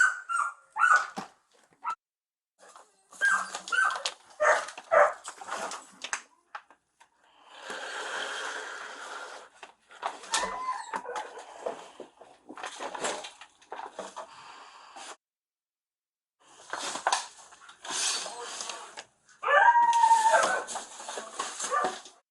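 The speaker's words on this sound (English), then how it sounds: "More dogs. 3 dogs." Three malnourished dogs inside a filthy house bark, yip and whimper in scattered bursts with quiet gaps between, close by and fairly loud.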